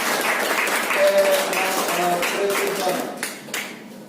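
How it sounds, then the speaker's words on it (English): A burst of applause from a room of people, claps blending into a dense patter under some chatter before tapering off. "Give applause for your friend's performance."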